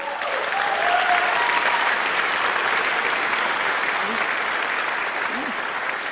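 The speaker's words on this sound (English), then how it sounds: "Could we give a round of applause for Tracy Holloway?" A dense, steady round of applause fills a university convocation hall, a large audience clapping continuously at an even level throughout, with faint voices mixed underneath.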